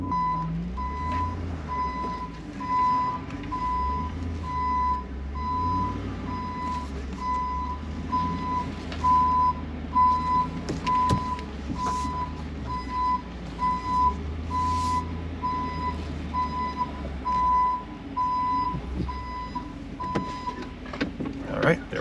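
A truck's reversing alarm beeps steadily and continuously while it backs a trailer into a campsite bay, the beeps riding over a low idling engine rumble, with some faint background noise.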